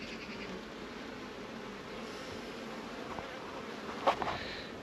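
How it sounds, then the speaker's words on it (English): Honey bees buzz inside a crowded nuc box, a steady low hum that holds throughout, with a brief louder flurry of movement near the end. "There are plenty of bees in here."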